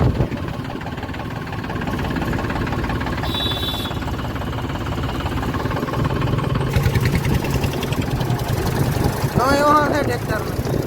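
A tractor engine idles and runs with a steady mid-pitched rumble through the whole stretch, with people talking over it.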